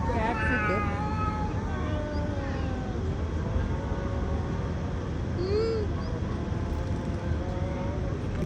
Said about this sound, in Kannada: ಇಲ್ಲಿ ಬೆಕ್ಕು ಸಹ ಇದೆ. ಜಗಳ ಮಾಡ್ಕೊಂಡಿದ್ದು